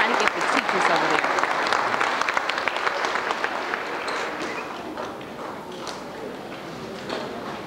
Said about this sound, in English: Parents, let's give them a final hand.